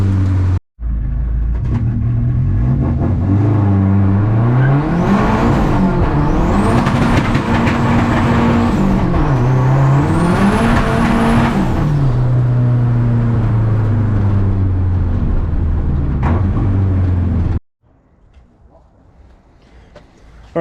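A modified Volvo car accelerates hard through the gears, its engine rising and dropping in pitch with each shift in a loud, close, continuous roar that cuts off abruptly near the end.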